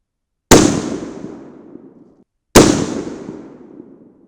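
Two sharp .308 Winchester rifle shots, about two seconds apart, fired with 110gr Hornady Z-Max bullets over Reloder 7 powder. Each crack is loud and close and trails off in a long outdoor echo, with no talking.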